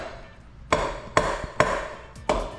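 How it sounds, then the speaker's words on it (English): Four light hammer taps on an engine bracket during a BMW E30 325i engine rebuild, knocking a part loose from the cylinder head. The sharp metallic knocks come close and evenly spaced with short gaps, and no one speaks. "just take your trusty hammer,"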